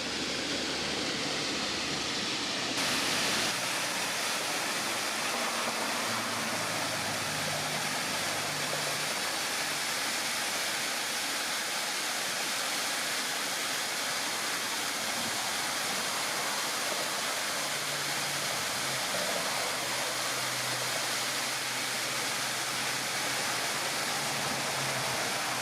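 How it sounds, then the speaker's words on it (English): Small roadside waterfall at Seward Highway Falls in Alaska, a constant broad rushing roar of falling water that holds steady for the full length, with no voices. "There's a cute little waterfalls right here."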